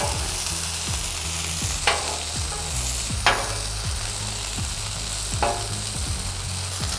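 Burger patties sizzle steadily on a hot cooking surface, a dense, even hiss with a few sharp pops and scrapes scattered through it, close by and with no talking.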